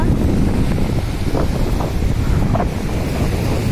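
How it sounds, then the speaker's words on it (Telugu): Wind and waves at Karimnagar beach: strong gusts buffet the microphone in a constant roar, with surf washing underneath and no talk. "ఇది కరీంనగర్ బీచ్."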